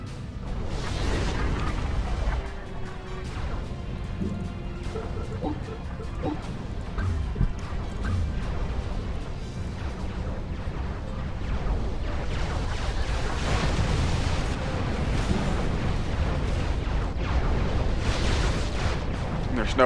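Artillery fire and explosions roar through a Supreme Commander 2 PvP battle, a dense, continuous barrage of booms and crashes layered thickly for the whole stretch, swelling louder toward the end.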